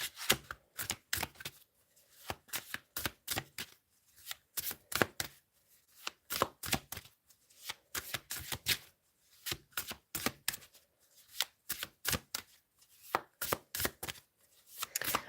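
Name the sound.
shuffling tarot cards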